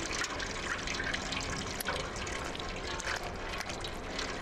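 Cat lapping water in the PS5 game Stray, a steady close liquid sound with small splashy flicks running the whole time, no talk.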